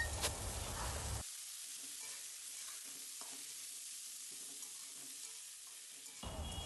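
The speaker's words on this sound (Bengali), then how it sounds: "এবার এই সর্ষে শাকটাকে এর মধ্যে দিয়ে দিন, দিয়ে ভালো করে এটাকে নাড়াচাড়া করে নেবেন" Mustard greens and dried chillies stir-fry in hot oil, giving a soft, steady sizzle with scraping stirs, louder at the start and end and quiet in between.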